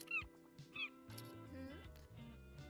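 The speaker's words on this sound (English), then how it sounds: "Oh my god, the birds are coming into my shop." Seagulls in a shop-simulation video game give a few short, high squawking calls near the start, then fade under a steady background of music or ambience.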